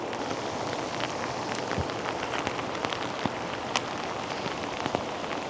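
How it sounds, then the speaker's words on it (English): Rain falls steadily at a dam, a dense hiss of drops striking water and surfaces with scattered louder plinks, continuous and close with no talking. "Yeah, there's that rain."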